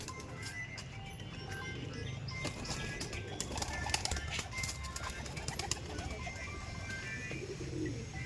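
Star Kalanka Andhra pigeons cooing in a loft, with faint wing flaps and shuffling mixed into steady low background noise, continuous throughout.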